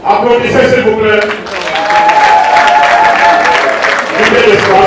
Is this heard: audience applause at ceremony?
yes